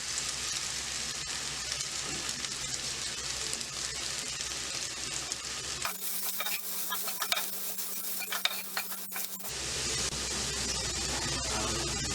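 Okra, lady's finger, frying in a pan for a spicy vendakkai masala fry, with a constant hissing sizzle and scraping stirs that turn sharper and busier partway through, no voices.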